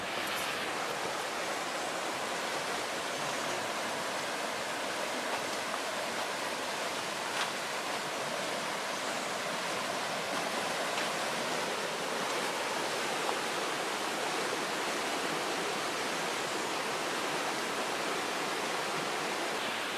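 Water flows nearby outdoors, a stream or waterfall giving a steady, dense rushing roar that holds evenly throughout with no voices.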